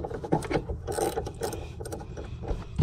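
Quarter-inch ratchet tightening a rear shock on a 1979–1993 Fox-body Mustang, quiet uneven clicking and metallic ratcheting strokes close by.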